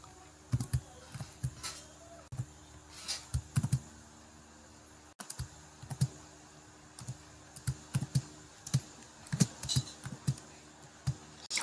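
Quick bursts of typing on a computer keyboard while entering a spreadsheet formula, close and fairly loud, with irregular clusters of key clicks and a few sharper taps, no talking.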